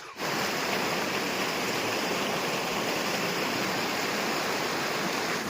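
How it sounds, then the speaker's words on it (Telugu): A steady, dense rush of stream water from a village stream swollen after heavy rain, loud and continuous, with no voices. "మా ఊరు దగ్గర ఉన్న ఏట్లో నీళ్ళు ఈ విధంగా పోతున్నాయి"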